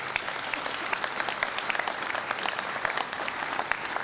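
At a municipal New Year's greetings ceremony, a hall audience claps steadily, a continuous crackle of many hands at moderate volume with scattered louder individual claps and no speech.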